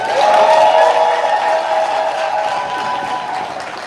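Audience applause for the president at a diaspora convention in Chicago, a loud, dense wash of clapping and crowd noise that stays strong throughout and fades slightly toward the end.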